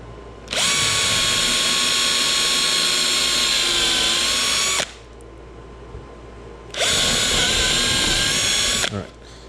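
A power drill drives 3.5-inch deck screws into wood while a basic top bar hive is built, giving two loud, sustained whining bursts of about four and two seconds separated by a quiet pause.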